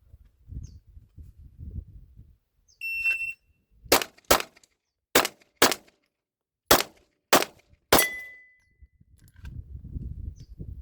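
Seven loud, sharp gunshots from a Smith & Wesson M&P 2.0 polymer-frame pistol fired outdoors in an uneven string, with a faint metallic ping after one shot and quiet rustling before and after.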